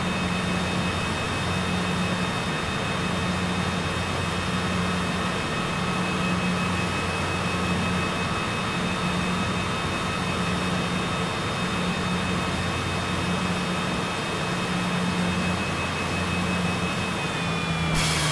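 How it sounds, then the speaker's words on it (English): Aircraft jet engines in Microsoft Flight Simulator run with a loud, steady roar and high whine, then start spooling down as the pitch sags at the very end. "we killed the engines off there"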